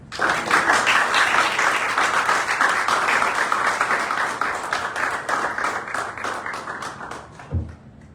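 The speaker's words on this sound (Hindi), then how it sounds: "मैं आपकी भरपूर तालियों में उसको यहाँ पे दावत दूंगा" A church congregation at a Sunday service applauds a speaker, with loud, sustained clapping that holds steady for several seconds, then thins out and ends with a single thump.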